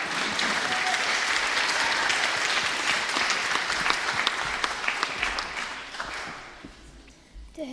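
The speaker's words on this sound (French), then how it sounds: "Een applausje mag wel." A crowd at an Armistice commemoration on 11 November breaks into dense, sustained applause, loud and even for several seconds before gradually fading out.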